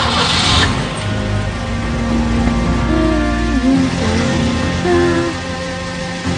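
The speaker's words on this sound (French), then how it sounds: "Il a fait démarrer le moteur." A car engine runs just after being started, giving a steady close hum with a low throb and tonal shifts that waver up and down, with no voices.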